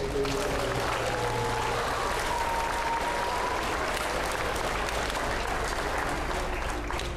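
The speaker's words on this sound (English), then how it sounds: "If you could give all of them a round of applause for all the work that they do." An audience at a school band spring concert in a gym applauds steadily and densely, a sustained wash of clapping throughout with faint background murmur and a brief tone underneath.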